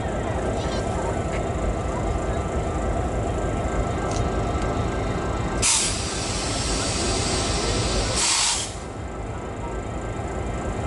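A train with headlights and ditch lights on rumbles past in the distance as a steady broad roar, with two brief louder hissing bursts along the way.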